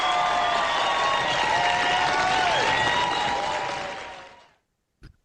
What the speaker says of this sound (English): let's give these two a round of applause